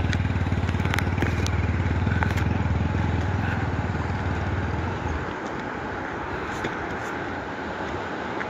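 Motorcycle ridden on a steep mountain road in Talkot, Bajhang, Nepal: a steady, loud engine drone runs for about five seconds, then drops away to a quieter rumble with scattered clatter.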